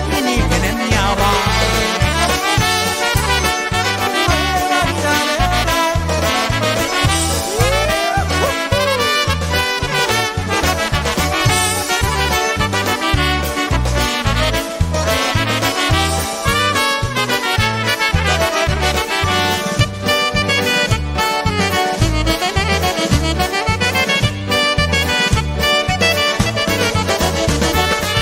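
A band plays a Polish song, a continuous, bouncy polka-style band recording with a steady rhythmic beat throughout.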